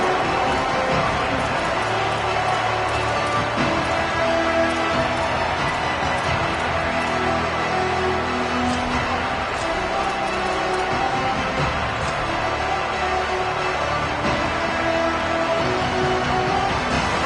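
A stadium crowd roars at a college football game between Oregon and Texas A&M, a dense, steady, loud wash of voices that never drops off.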